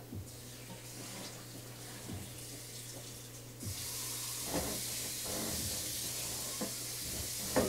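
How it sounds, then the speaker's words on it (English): Water runs from a tap, then a louder hissing pour into a cooking pot begins partway through and continues steadily over a low background hum. "now I'm going to add water"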